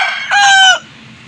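A young fighting cock of about six to seven months crows once, a short loud call lasting about half a second, close by and with no talk over it.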